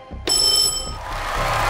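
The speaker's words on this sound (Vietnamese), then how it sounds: "Các em hãy bấm chuông để chốt phương án." A game show answer bell is pressed, giving a sharp bright metallic ring that sustains briefly then fades into the studio's background murmur.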